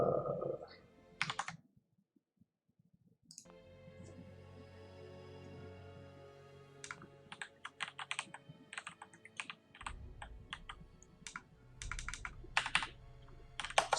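Computer keyboard keys clatter during a PC game session of Fallout 4, with bursts of rapid clicks and single taps after a brief pause, close and crisp over a low background hum.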